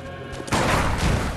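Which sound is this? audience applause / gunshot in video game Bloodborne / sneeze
gunshot in video game Bloodborne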